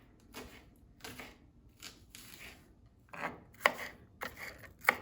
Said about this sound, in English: And you won't cry through chopping this onion because it's milder.